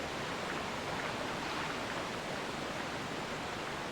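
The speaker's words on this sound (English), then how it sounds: "That's a waterfall." Waterfall at Lake Hylia in the video game Zelda Twilight Princess roars as a steady, dense wash of rushing water, continuous and fairly loud with no pauses.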